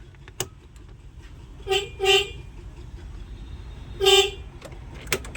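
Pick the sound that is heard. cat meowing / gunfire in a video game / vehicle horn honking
vehicle horn honking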